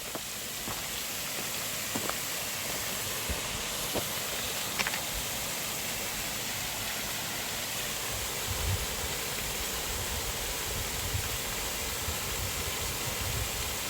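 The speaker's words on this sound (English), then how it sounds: "It's a nice little waterfall here." A small waterfall along the Devil's Path trail in the Catskills, heard as a steady, even rushing hiss that fills the background without letup, with a few faint clicks and bumps from the hiker nearby.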